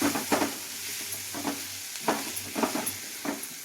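A spoon stirs wet cashew curry with coconut masala in a frying pan, a Konkan-style dish. Several distinct scraping strokes come over a soft, steady sizzle, close and fairly quiet.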